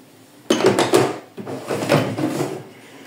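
A wooden drawer in a home kitchen during decluttering slides open or shut with clattering knocks and rattling contents, loud and close, in a burst of several bumps followed by softer sliding rattles.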